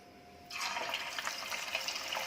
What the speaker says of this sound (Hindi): तेल गरम हो चुका है। अब इसमें चिकन के पीसेस डालेंगे जो हमने मैरिनेट किए थे।